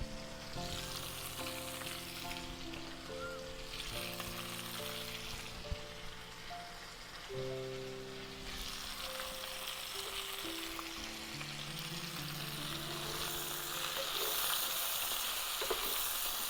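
White mushrooms stir-frying in a pan for a vegan vegetable curry, giving a steady sizzle and crackle that runs through the whole stretch under a layer of soft background music, with no talking.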